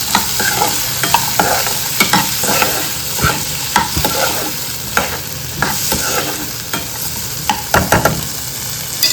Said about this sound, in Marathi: सर्व हे एकत्र आपल्याला फ्राय करून घ्यायचं आहे.